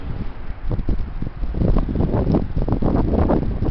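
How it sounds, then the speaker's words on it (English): Strong wind blows steadily outdoors, a loud continuous rush with gusty buffeting against the microphone that swells and stays dense throughout. "Sure is windy out here."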